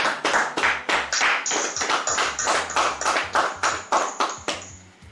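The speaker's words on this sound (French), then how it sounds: "On acclame l'Éternel" A wedding congregation claps rhythmically in praise, with steady, evenly spaced loud claps in a regular beat, accompanied by low sustained tones, tapering off toward the end.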